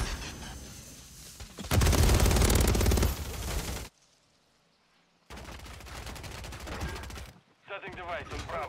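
Rapid bursts of EBR-14 rifle fire in a first-person shooter game, loud and close, alternating with brief quiet gaps and a few softer clattering shots near the end.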